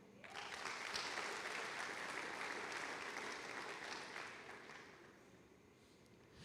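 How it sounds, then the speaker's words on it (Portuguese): A church congregation claps steadily for several seconds, dense and even, then gradually thins and fades toward the end. "Aplauda o Senhor."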